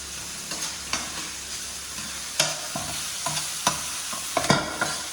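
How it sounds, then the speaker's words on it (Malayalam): A spoon stirs masala frying in a pan, with a steady sizzle and intermittent scraping knocks up close, no voices. "മസാല കിടന്നിങ്ങനെ ഇങ്ങനെ ഇങ്ങനെ സെറ്റ് ആവുന്നുണ്ട് അതൊന്ന് ഇടക്കിളക്കി കൊടുക്കുക"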